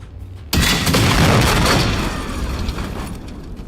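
Gunfire in the video game Generation Zero, a sudden loud burst of rapid shots that keeps booming and rumbling, then slowly fades into echoing reverberation.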